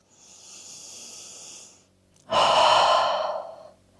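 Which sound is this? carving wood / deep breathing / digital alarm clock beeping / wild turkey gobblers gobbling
deep breathing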